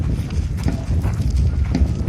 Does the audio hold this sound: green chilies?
no